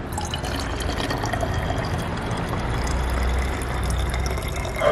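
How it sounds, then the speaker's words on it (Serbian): Tap water runs into a small bottle already half full of vinegar, a continuous close-up splashing and gurgling stream that holds steady to the end. "Ostatak bočice ćemo da napunimo jednostavno"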